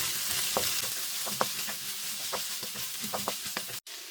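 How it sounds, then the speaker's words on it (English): Long capsicum strips stir-fried with mixed vegetables in a pan, a constant hissing sizzle punctuated by soft scraping strokes of a spatula, ending in a brief dropout. "Add 1 capsicum cut into long strips. Mix all together."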